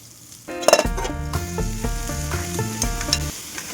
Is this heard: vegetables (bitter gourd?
yes